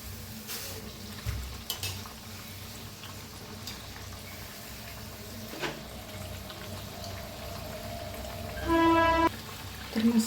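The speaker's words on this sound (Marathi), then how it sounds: "तर मस्त असं तळायला लागलेत पहा." Masala vada frying in hot oil gives a soft, steady bubbling hiss throughout, joined by a few faint clinks and a short tonal beep near the end.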